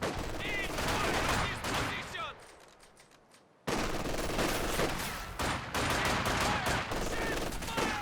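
Dense rapid small-arms fire in Company of Heroes 2 as seven-man conscripts trade shots with LMG grenadiers, loud overlapping bursts that drop away briefly before the firefight resumes at full intensity.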